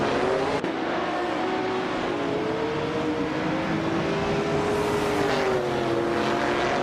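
A Porsche 917 LH race car engine in a racing video game drones at a steady, loud, sustained pitch that rises slightly and then falls back, running without a break and with no voices.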